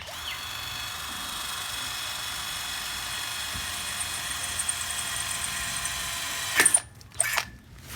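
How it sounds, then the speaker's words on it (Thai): A 24V cordless drill bores a hole, a steady high-pitched motor whine running for several seconds, then the bit breaks through with rough grinding bursts and the motor stops and restarts briefly, loud and close. "เจาะไม้เจาะปูนผ่านไปแล้วนะฮะ"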